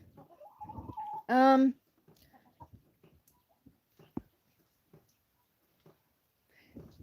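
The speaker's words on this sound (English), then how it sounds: "There we have chickens." A chicken lets out one loud, close squawk amid quiet scattered clucks on a farm, with people talking softly nearby.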